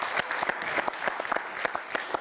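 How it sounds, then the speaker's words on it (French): Small group applauding the Caluire club in a radio studio, close, uneven claps in a brief flurry with no speech over them. "Le club de Caluire, on peut les applaudir"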